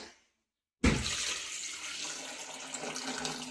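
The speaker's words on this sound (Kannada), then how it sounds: "ನೀರು ಹಾಕೊಂಡು" Water gushes steadily from a tap onto halved potatoes in a cooking pot being readied for boiling, starting abruptly after a short silence and running close and continuous to the end.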